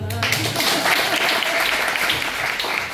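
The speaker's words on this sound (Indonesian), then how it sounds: "Kasih tepuk tangan" Audience applause at a culinary business talk, a dense burst of clapping that rises at once and holds steady and loud for the whole stretch, with no voices standing out.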